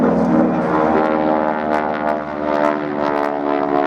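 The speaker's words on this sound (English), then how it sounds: "One of the truly great training aeroplanes of all time, this." A North American training aeroplane flies at the Duxford air festival, its radial engine and propeller giving a loud, rich, throbbing drone that holds steady and close throughout, with no voices.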